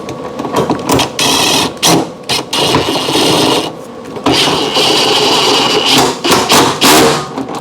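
An impact wrench drives in the bolt of a shock absorber on a Samsung washing machine, loud close bursts of buzzing rattling hammering, several short runs broken by brief stops.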